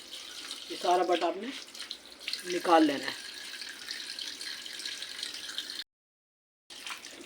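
Raw beef tripe is rinsed under a running tap at a kitchen sink, water pouring and splashing steadily while someone speaks briefly over it, then a short break before the flow resumes.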